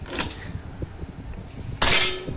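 A PRF pump air rifle fires a sharp, loud shot after a series of faint, quiet cocking clicks and handling noises.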